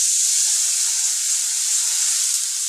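Water poured into a pan of fried potatoes sets off a steady, loud sizzling hiss that holds evenly for a few seconds, with no voices.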